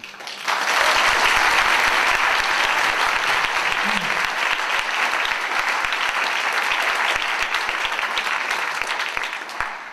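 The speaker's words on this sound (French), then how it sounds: "je pense que vous pouvez tous les applaudir" An audience at an evening meeting in Bordeaux breaks into sustained, dense applause that starts abruptly and continues steadily at close range, loud and unbroken.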